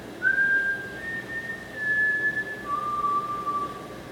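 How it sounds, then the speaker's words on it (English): A lone person whistles a slow, mournful tune: a few long sustained notes that step down in pitch partway through, clear and close over faint background noise. "He just whistled a sad tune."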